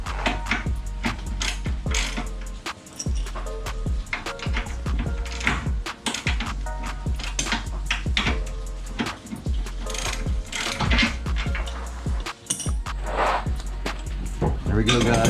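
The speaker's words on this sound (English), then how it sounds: "So we're gonna go ahead, ratchet the rest off" A hand ratchet clicks rapidly and repeatedly as a front control arm bolt is backed out on a 2013-2018 Nissan Altima, loud and close, with someone talking over the clicking.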